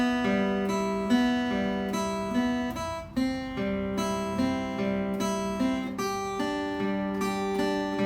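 Beginner-style guitar chords picked on the treble strings, a steady stream of ringing, overlapping notes that change chord every second or so, played alone and close with no talking.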